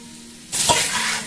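Drained potatoes with turmeric and salt hit a hot pan and flare into a sudden loud sizzle with a quick scrape of stirring, the frying hiss then settling to a steady crackle.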